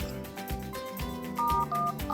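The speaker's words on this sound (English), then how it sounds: "you dial the MTN mobile money code *170#" Phone keypad tones sound while a mobile money short code is dialed on an MTN line, a quick run of about eight crisp, evenly spaced beeps close to the microphone.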